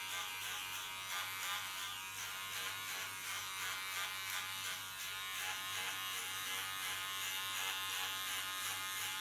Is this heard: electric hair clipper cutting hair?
yes